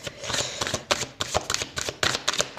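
Oracle light cards are shuffled close up in a quick, steady run of crisp riffling slaps and flicks that repeat rhythmically, with no talking.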